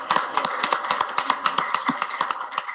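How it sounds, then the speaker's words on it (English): A lone person claps quickly and steadily for a departing council member at a city council meeting. The sharp claps come in an even rhythm, with no talk over them. "I'm going to give him a round of applause all by myself"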